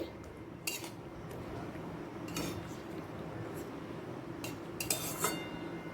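Silver carp in mustard-paste curry with chopped coriander is stirred in a pan, a quiet bubbling simmer broken by a few sharp metal clinks of a spoon against the pan.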